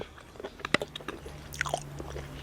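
Raw beef being chewed close up, with crisp crunches and biting snaps in an irregular rhythm over quiet background, no talking.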